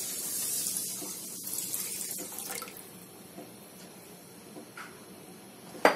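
Water poured into a pan of sugar on a gas stove to make syrup for rasgulla, heard as a steady splashing stream that fades after a few seconds, followed by quieter kitchen clatter and a sharp knock at the end; no talk.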